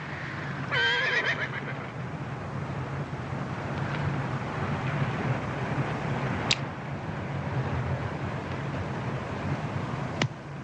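A horse gives one loud, clear whinny near the start, heard over steady outdoor wind and a low rumbling background in a Western setting.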